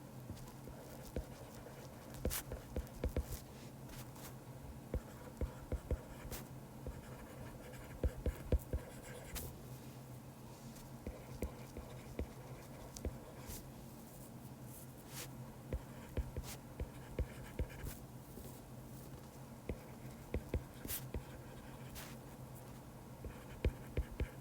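Pen or marker scratching steadily across a writing surface during an immunology lesson, with faint tapping strokes and rustle through a quiet room, no talk over it.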